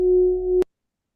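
Sonified brightness pulsations of the pulsating star Polaris, rendered as a single steady electronic tone held for about half a second before cutting off sharply into silence.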